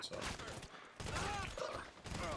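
Gunfire in GTA V gameplay, a burst of rapid shots with a brief pause before another volley, loud and close over game ambience.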